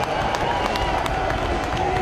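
A dense, steady roar of a large grandstand crowd cheering at a 24-hour race in Gran Turismo 5, with scattered clapping, loud and continuous throughout.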